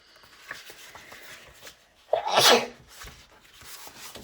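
A single sharp human sneeze bursts out mid-clip, close and loud, amid quiet paper handling and faint rustling while making paper page kits.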